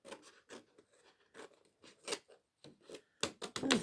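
Scissors snip repeatedly through card or paper for a homemade pencil box, a series of close, crisp cuts in an uneven rhythm with short pauses, growing louder and denser toward the end.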